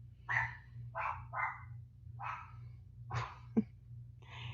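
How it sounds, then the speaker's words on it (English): A female dog barks repeatedly at close range, a series of sharp mouthy yaps and barks spaced unevenly over a low steady background hum. "Ronnie, I don't know if I ever want another female dog again in life"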